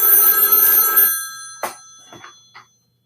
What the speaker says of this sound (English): You can see that it's ringing.